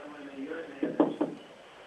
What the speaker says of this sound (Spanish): Vamos a golpear la puerta.